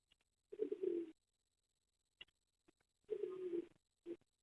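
A Jacobin pigeon pair of the Bahrain line, an almond male and a white female, coos in two distinct close, soft bursts separated by quiet, with a few faint clicks and shuffles in between.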